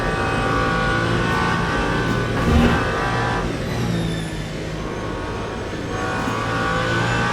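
Race car engine in Le Mans Ultimate during the 24 Hours of Le Mans, a loud sustained roar that dips and swells as the car accelerates through the Porsche curves, with no talk.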